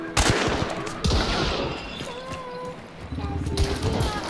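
Gunfire from double pistols in Hunt: Showdown, a few sharp close shots in quick bursts with gaps between, under game ambience and a player's voice.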